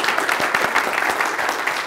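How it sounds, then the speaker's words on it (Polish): A hall audience at a medical informatics hackathon lecture claps to welcome a professor, a dense, even burst of many hands clapping at moderate loudness, with no voices over it. "Powitajmy go, brawa."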